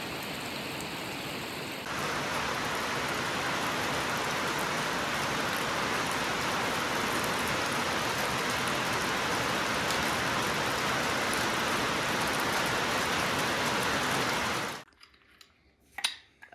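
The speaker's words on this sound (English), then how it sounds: "Just a little rain today, but it's much needed with all the fires that are going on in the area." Light rain falls steadily in an off-grid building setting, a dense, even hiss that swells after a couple of seconds, holds for most of the stretch, then cuts off to near silence with a few faint knocks.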